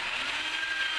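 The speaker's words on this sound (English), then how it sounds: "I'm just going to show you how to drill out the cup using a simple hand drill" Hand drill with a Forstner bit boring a hinge cup hole in a cabinet door, a steady close whirring grind held evenly for about a second.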